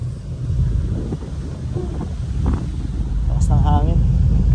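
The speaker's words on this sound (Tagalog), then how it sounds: "Taas ng hangin." Strong wind buffets the microphone on the upper deck of a ferry near Victoria, British Columbia, a steady heavy roar with low engine and water rumble beneath and brief voices in the background.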